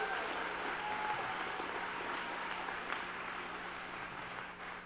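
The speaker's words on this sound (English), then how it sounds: "could I get a big round of applause for the class of 2023?" Applause from the crowd at a school graduation ceremony for the class of 2023, a soft, distant and steady clapping that holds evenly and fades slightly toward the end, with a low hum underneath.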